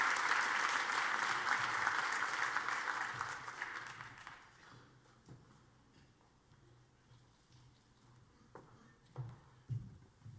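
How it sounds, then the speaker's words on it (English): Applause from guests at a U.S.-China film gala dinner, a loud sustained round of clapping that thins and fades after about four seconds into quieter room noise with a few scattered knocks. "Round of applause,"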